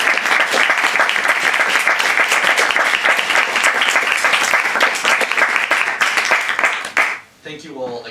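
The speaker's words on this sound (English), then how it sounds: "Let's give these four wonderful poets a round of applause." An audience at a poetry reading applauds four poets with dense, sustained clapping that holds steady for about seven seconds, then cuts off abruptly and gives way to a voice speaking.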